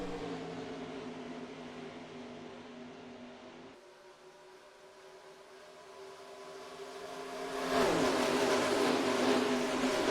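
Race car engines drone in NASCAR Racing 2003 with a Disney Cars mod as the Piston Cup race restarts under green, a steady whine that dips midway and then swells louder as cars accelerate.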